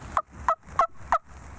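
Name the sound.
wild turkey hen flying up to roost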